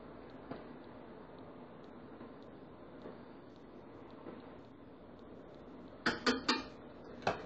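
Spoon stirring cabbage soup (borscht) in a small pot, faint scraping with occasional soft taps, then a few sharp metallic clinks against the pot near the end, quiet and close.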